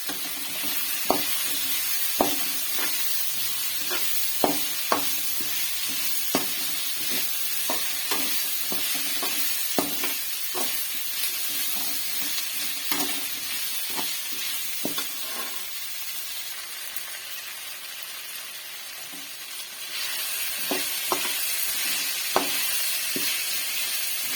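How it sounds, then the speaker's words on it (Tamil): Cut potatoes sautéing with mutton liver in a pan, with a steady background sizzle and frequent sharp spatula clicks and scrapes against the pan. "கால் கிலோ உருளைக்கிழங்கு கட் பண்ணி வச்சுருக்கேன் அதையும் இது கூட சேர்த்து நல்லா வதக்கிக்கலாம்"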